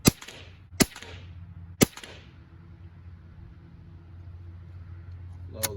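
Three sharp .22 Long Rifle shots fired toward a target at 200 yards, loud close cracks about a second apart with short decaying echoes, then quiet outdoor background and a faint click at the end.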